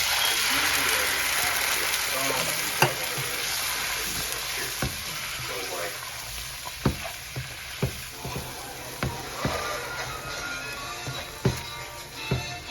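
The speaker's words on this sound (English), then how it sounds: "Just gonna cook these tomatoes down a little bit." Canned Rotel diced tomatoes simmer and sizzle in a pan, a steady close crackle broken by sharp clicks and taps of a utensil against the pan every second or so.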